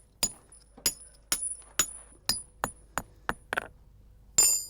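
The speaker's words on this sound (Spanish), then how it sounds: "Y ahora utilizamos el primer puntero, que es para iniciar, nosotros le llamamos esto el pincho" A hammer drives a steel point chisel into granite, about ten sharp ringing metallic strikes at an uneven, roughly half-second pace, close and clear against a quiet background, the last blow louder and harsher.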